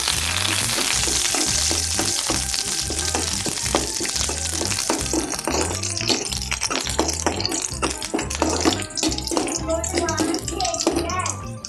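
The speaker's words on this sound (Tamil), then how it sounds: "ஒரு வரமிளகா ஓட்டுங்க கொஞ்சம் கருவேப்பிலை ஓட்டுங்க தாளித்து கறிக்குள்ளே கொட்டிடலாம்" Dried red chili and curry leaves tempering in hot oil in a pan for a country chicken fry, a loud continuous sizzle and crackle close up, with rhythmic tapping and stirring and a voice speaking over it.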